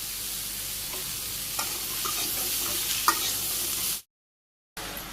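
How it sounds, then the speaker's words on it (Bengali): Pumpkin pieces stir-fried in a pan with chili slices, a steady sizzle broken by a few soft scraping stir strokes, cut by a brief silent gap near the end. "মিষ্টি কুমড়াগুলো ভাজি করছি ভালো করে"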